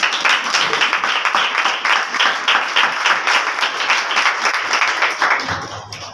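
A church congregation at a Sunday meeting claps together, a dense, steady sustained applause filling the room at close range before it thins out near the end, with no talking over it.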